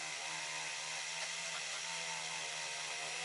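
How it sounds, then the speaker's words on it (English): A Dremel rotary tool spins a polishing pad against a plastic gauge lens, giving a steady, close, high-pitched whine whose pitch sags slightly under pressure. "the pressure that I'm putting is actually slowing the motor down, because there's not that good of a control on a Dremel"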